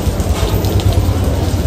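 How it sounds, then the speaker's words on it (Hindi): Rain falls steadily in a hilly Himachal Pradesh setting, a dense continuous hiss with a low rumble underneath, loud and unbroken for a moment, with no voices. "और हम बारिश में जा रहे हैं"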